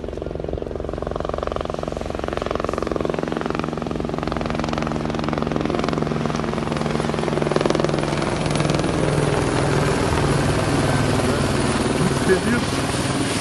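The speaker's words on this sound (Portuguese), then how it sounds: "Ali chegando o helicóptero da Marinha." A Brazilian Navy helicopter arriving: a continuous rotor and engine drone that holds steady throughout, fairly loud, with voices talking underneath.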